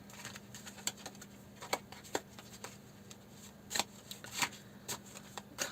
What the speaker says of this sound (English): I am the world's worst shuffler.